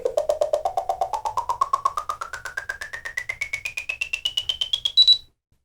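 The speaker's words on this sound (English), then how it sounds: "it'll actually beep as you're getting to the endpoints, and it will beep when you get to center" A radio control transmitter beeps in a rapid series rising steadily in pitch during trim adjustment, about forty in five seconds, ending in a brief higher sustained tone at center, then silence.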